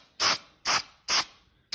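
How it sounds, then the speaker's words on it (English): Short hissing bursts from a spray can aimed at the browned needles of an artificial Christmas tree. The sprays are close and evenly spaced, four of them with brief silences between. "Here's a brown one, let's spray that one."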